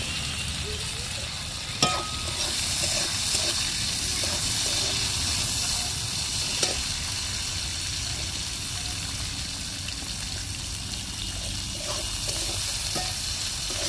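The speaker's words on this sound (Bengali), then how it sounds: "এই উচ্ছেগুলো লাল লাল করে ভেজে দিলি একটু তেতোটা কম হয়" Bitter gourd and browned onions fry in oil, a steady hissing sizzle that continues close and even, with a couple of faint knocks from a utensil.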